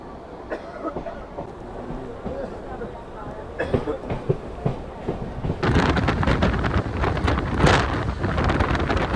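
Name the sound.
local train running, Kolkata to Rampurhat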